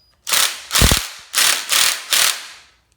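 A socket wrench on a nut under a bushing of a dirt bike fork ratchets in five loud, close bursts, each a quick run of clicks with short pauses between.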